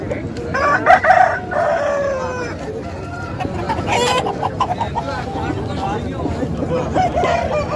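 Rooster crowing at a country chicken market, several loud nearby crows with clucking fowl around them over a busy crowd murmur.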